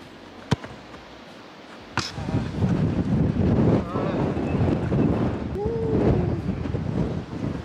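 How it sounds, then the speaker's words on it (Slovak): Strong crosswind buffets the microphone with a steady roar after a couple of sharp knocks during outdoor football practice. A voice is heard briefly within the noise. "Strašne fúka z boku."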